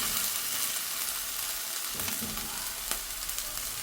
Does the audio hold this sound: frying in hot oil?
yes